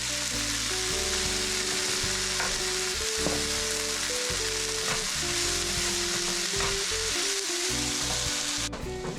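Carrot and onion frying together in a pan for borscht, giving a dense, continuous sizzle with intermittent stirring scrapes, close by and steady throughout with no talking.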